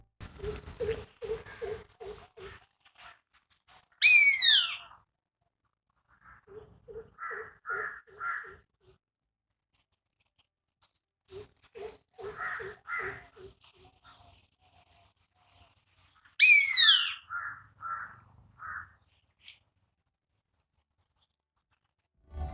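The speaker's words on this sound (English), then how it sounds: "It has a distinctive two-note whistling call, which is heard at dawn and dusk." Indian Pitta whistling calls come in two separate bouts, each a clear series of short, bright notes with long silent gaps between them, heard alone with no talking.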